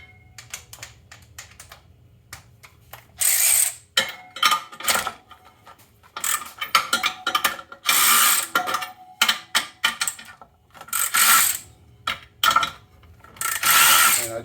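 Rapid clicking bursts of a ratchet loosening 13 mm nuts on a UTV secondary clutch, close and loud, in irregular spurts separated by short pauses, with no talking.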